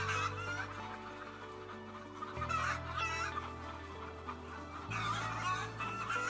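Hens cluck in an enriched colony cage system at a poultry facility, a busy overlapping chorus of clucks and squawks over a steady mechanical hum that shifts pitch twice.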